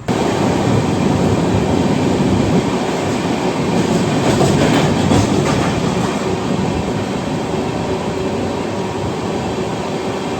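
Netravati Express running from Mangalore toward the Konkan line, heard from inside a sleeper class coach, with a steady loud roar of rolling wheels and rail noise and faint rhythmic clatter throughout.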